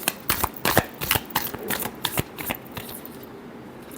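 A deck of tarot cards is shuffled by hand in a quick series of crisp riffles and slaps, close and fairly loud, fading to softer rustling at the end.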